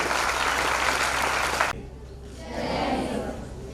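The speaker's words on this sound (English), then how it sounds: "let's give a big round of applause" Loud applause from a crowd at a yoga day event for almost two seconds cuts off abruptly, followed by softer crowd murmur and scattered noise.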